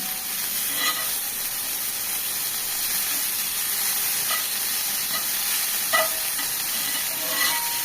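Chopped coriander leaves frying lightly in a pan for coriander chutney give a steady, soft sizzle and hiss, with a few brief clinks and stirring scrapes near the middle and end, no voices.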